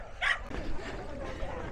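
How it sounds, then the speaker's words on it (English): A dog barks excitedly near the start of a Harrogate parkrun, one sharp close bark followed by low crowd murmur and background chatter. "Oh, the dog's excited."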